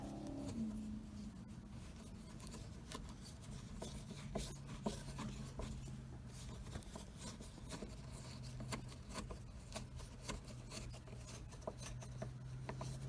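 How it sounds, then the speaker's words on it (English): A screwdriver turns sun visor screws inside a 1966 Dodge Dart GT barn find, making repeated faint rasping and clicking ticks in an irregular rhythm over a low steady hum, close but quiet. "You too can screw in screws."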